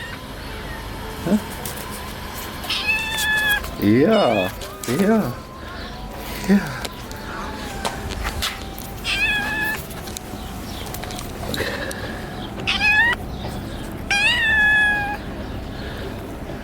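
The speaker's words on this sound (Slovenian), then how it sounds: "Taka zalega muck imamo tle." A litter of kittens mews in short, high, repeated cries, some close and some farther off, scattered over background noise while a person speaks briefly in Slovenian.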